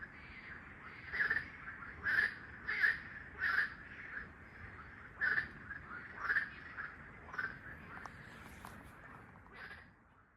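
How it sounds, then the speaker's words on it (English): Loud, repeated croaking calls of frogs in irregular bursts, many voices overlapping against a steady nighttime background hum in Belgium. "from the noise of those frogs, or whatever they were, it was a very loud night"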